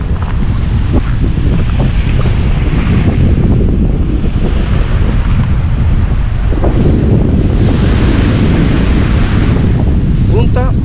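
Wind and surf on the beach at Punta Ballena in Guánica, Puerto Rico: loud, constant buffeting wind over rolling waves, with swelling surges of breaking water and no talk.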